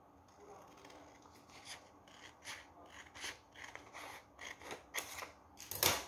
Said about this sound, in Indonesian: lalu kita gunting